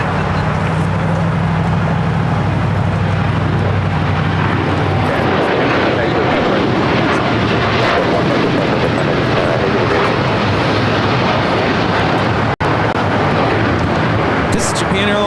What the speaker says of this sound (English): This is Japan Airlines Flight 69 taking off to Osaka on the 787-9 Dreamliner